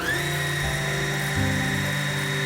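A Juki TL-2010Q sewing machine runs under foot-pedal control, a loud, continuous, steady motor whir with a slight shift in pitch partway through.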